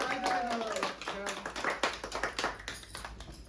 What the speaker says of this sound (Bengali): সবাই মিলে চৈতালির জন্য একটু জোরে হাততালি মেরে দাও